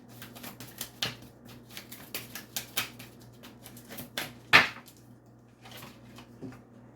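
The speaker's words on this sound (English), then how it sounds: "2 more shuffles and I'll pull from the top." A deck of tarot cards being shuffled by hand in repeated quick riffles and taps, close and fairly quiet, with a sharper snap near the middle and no talking.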